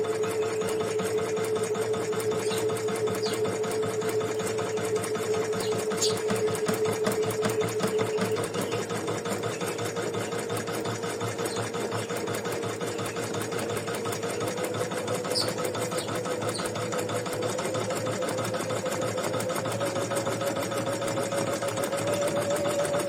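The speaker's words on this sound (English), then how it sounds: "we're gonna stitch the satin stitches right now around our" An embroidery sewing machine stitches satin stitches around a heart-shaped in-the-hoop design, running in a steady, fast mechanical rhythm with a continuous motor whine throughout, close and alone.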